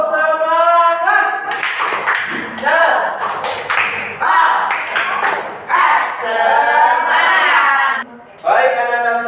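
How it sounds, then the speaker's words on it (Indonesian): A classroom of students doing a rhythmic spirit clap, bursts of patterned clapping alternating with chanted voices and singing, loud and close, with short pauses between phrases. "Anda semua tepuk semangat"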